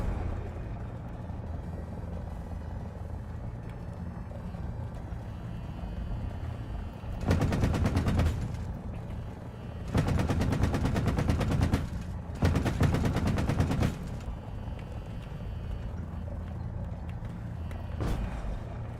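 Bursts of rapid automatic gunfire in War Thunder air/ground simulator battle, three long volleys and a short final burst over a steady engine drone, fairly loud and close.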